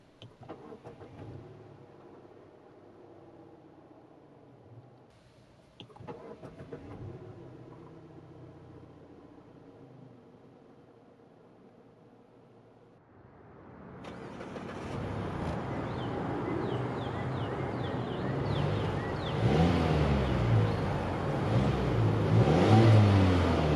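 A 2021 Mazda CX-5 with a 2.5-litre turbo engine cranks and catches via push-button start after a few clicks and faint movement, then revs up loudly several times before settling into a rumbling idle.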